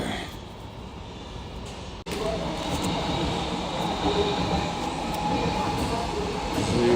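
An electric commuter train runs with a steady rumble and rattle of wheels on rails, heard from inside the carriage, with a sharp click and brief dropout near the start and faint voices in the background.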